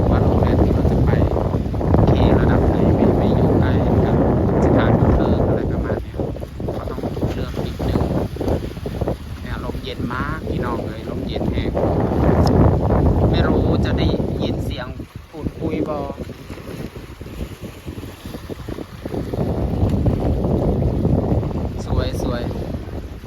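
Strong sea wind at Pattaya beach buffets the microphone with loud, gusting rumble that rises and falls throughout, while a person talks underneath.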